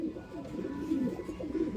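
Pigeons coo steadily in a breeder's loft, overlapping low throaty calls rolling on without pause, close and fairly loud.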